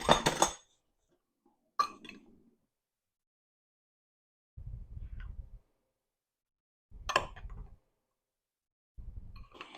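A spoon stirs warm, freshly made queso fresco, giving a few sharp clinks against the bowl followed by softer, low scraping bursts at intervals, close and quiet with no talk.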